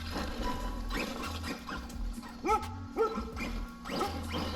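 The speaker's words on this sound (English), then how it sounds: "oh, neighbor's dog is out." A neighbor's dog barks outdoors in a few sharp yelps over a steady motor hum, fairly near and loud against the background of an Arrma Outcast 4S RC car session.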